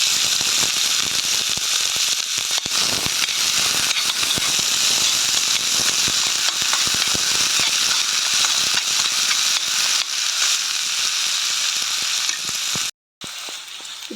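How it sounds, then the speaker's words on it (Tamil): Onions frying in a little hot oil in a pan while cooking penny pasta, a steady, loud sizzle and crackle that runs continuously and alone, briefly cutting out near the end. "பேன் சூடு வந்தோடனே அதில் சிறிதளவு எண்ணெய் ஊற்றுவோம். அதில் வெங்காயத்தை போடுவோம்."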